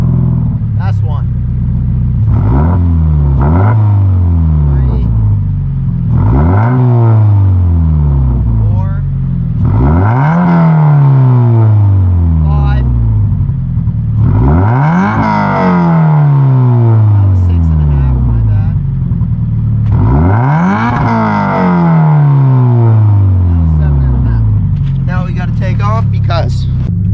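A Scion FR-S, Subaru BRZ or Toyota GT86 with an aftermarket exhaust revs repeatedly in stepped pulls, each rising to a higher RPM peak up to 7,500 before falling back, loud and close, with a voice talking between pulls.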